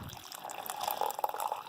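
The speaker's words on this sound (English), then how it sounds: "let's get some water in here" Water pours steadily into a Lithuanian Army ration pouch of pork stew with groats (menu 9), a close, continuous splashing fill for under two seconds with no talking.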